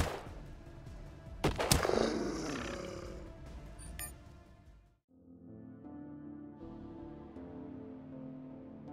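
A close, loud burst of gunfire from a weapon at close range in the Colony Ship RPG combat, a sharp blast followed by a decaying rumble, then a quieter tonal game sound takes over.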